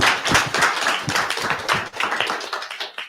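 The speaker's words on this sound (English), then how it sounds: "Give a round of applause." A small audience claps in a quick round of applause at the close of a conscious leadership talk, dense overlapping hand claps, fairly close and steady, trailing off at the end.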